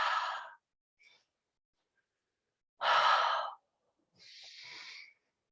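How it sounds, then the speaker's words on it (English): Slow, deliberate breathing during a yoga reverse warrior pose: a strong exhale, a pause, a louder breath, and a softer sighing release, heard close up and alone with no talking. "Taking a few rounds of breath here."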